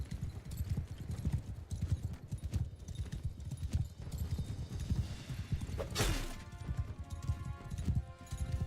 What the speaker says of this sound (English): there's the cavalry already with the lance. They're coming in fast.